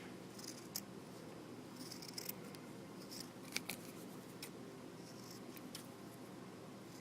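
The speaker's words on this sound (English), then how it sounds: "we just want to take a piece of felt and cut a circle" Scissors snip through a piece of felt to cut a circle, giving a few faint, crisp cuts over a low steady background hum.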